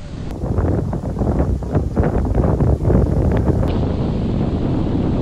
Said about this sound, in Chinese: 刮大风了，今天。